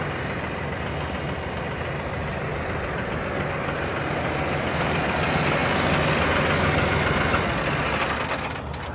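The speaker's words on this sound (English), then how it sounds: "this one sounds like a real tractor," A Mahindra 6075 PST 4WD tractor's diesel engine idles steadily nearby, a low rumbling chug with a slightly rising hum, continuous throughout with no voices.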